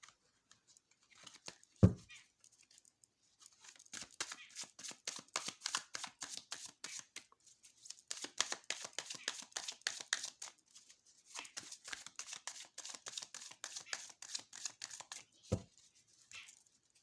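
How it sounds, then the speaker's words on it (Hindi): Tarot cards being shuffled up close, with a rapid run of crisp riffling flutters in several bursts and a couple of sharp taps, quiet, with no talking. "चलिए शफल हो गया।"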